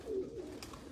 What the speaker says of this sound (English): Okay. I take the pigeon.